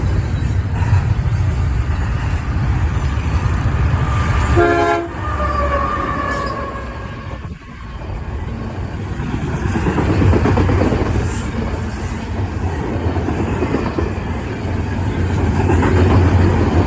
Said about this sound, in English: And in flew a late I-166 with a Canadian Pacific Kilo up front and another in the middle.